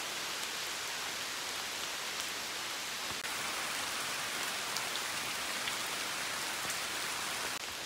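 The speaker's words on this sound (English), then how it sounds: "it's really started raining" Steady rain pours down without a break at Vintgar Gorge, Slovenia, a dense even hiss of drops on surfaces, close and continuous with no voices.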